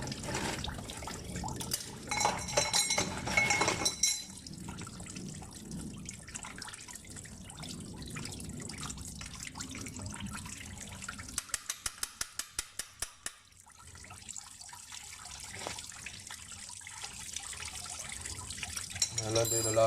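Coolant pouring and dripping from a Peugeot 406 2.2 HDi water pump as its last bolt is undone, a close liquid trickle with scattered drips and metallic taps, under spoken talk.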